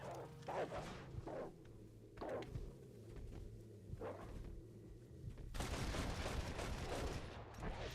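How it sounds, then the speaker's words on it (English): Gunfire and a barking dog in the Red Dead Redemption video game: bursts of shots and sharp barks repeat through a noisy game mix, swelling into a loud sustained volley near the end. "How is this dog still alive?"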